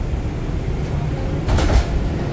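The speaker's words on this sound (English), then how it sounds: "This is a Manhattan bound 5 train." A Manhattan-bound 5 subway train in New York gives a loud, steady low rumble, with a brief surge of rattling noise midway through and no voices.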